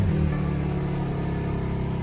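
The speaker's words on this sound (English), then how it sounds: "I'm gonna just start the car so I can actually adjust my seat." A BMW M4 Competition engine runs with a steady, loud low rumble and a slight rise at the very start, close by and with no voices over it.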